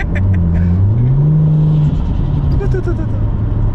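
Turbocharged Ford XR6 ute with aftermarket intake kit, a close engine hum rising and falling with whistling induction and short turbo blow-off chirps, loud and near.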